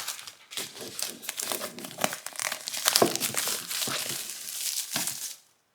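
Plastic packaging is peeled and crinkled off an Asus ROG Cetra true wireless gaming headphones box, a close, busy stretch of crackling, rustling and tearing that stops abruptly, with no speech.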